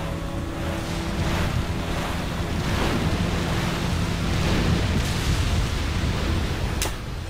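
Motorboats racing over rough lake water in Resident Evil 4, a loud continuous wash of waves, spray and wind noise that swells and fades, ending with a sharp knock.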